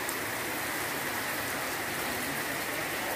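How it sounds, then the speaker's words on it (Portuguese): Steady rainfall in the Bahian sertão of Brazil hissing evenly throughout, a dense wash of drops with no gaps or voices. "E tá chovendo."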